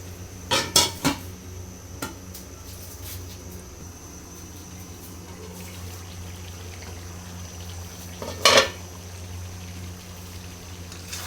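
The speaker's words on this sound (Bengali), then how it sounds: "একটা ঢাকনা দিয়ে ঢেকে রাখবো।" A metal lid clatters onto a cooking pot of simmering dal, with a couple of quick clanks near the start and another sharp clink later, over a low steady kitchen hum.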